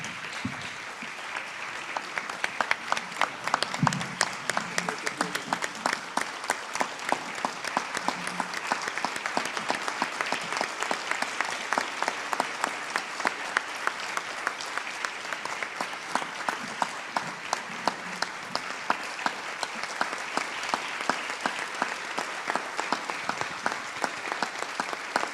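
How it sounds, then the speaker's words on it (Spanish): An audience applauds steadily and continuously at a press freedom award ceremony for journalist Fabián Medina, a sustained wash of many hands clapping with no pauses. "El aplauso para el periodista elegido para este premio, Fabián Medina"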